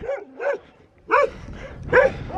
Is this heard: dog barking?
yes